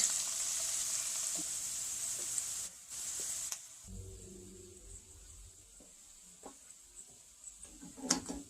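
Vegetables cooking down in a pan for vegan cornbread dressing, a bright hissing sizzle at first that quiets to a softer crackle, with a few clinks and scrapes of stirring, close by.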